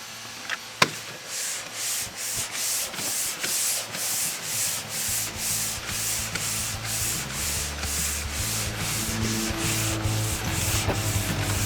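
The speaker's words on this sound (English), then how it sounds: "we're going to hand sand this side of the hull" A boat hull being hand sanded with a board on the faired side, steady rhythmic rasping strokes about twice a second, close and continuous, over a low machine hum.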